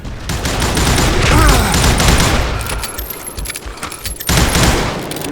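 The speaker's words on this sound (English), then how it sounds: "Robert Ollinger appeared with his terrible double-barrel shotgun." Gunfire in the western shooter game Call of Juarez Gunslinger, loud sharp blasts of a double-barrel shotgun amid a dense burst of shots, clinks and clatter, fading before another burst near the end.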